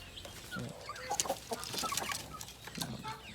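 Guinea fowl on a farm give short, harsh clucking calls in scattered bursts, moderately close against a faint outdoor background, with no one talking.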